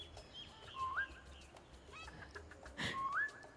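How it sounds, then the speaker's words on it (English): Two rising whistled notes from the player in the video game Beasts of Maravilla Island, each a short upward-sliding tone, the second following about two seconds after the first over a quiet jungle ambience. "Maybe it'll come say hi if I whistle."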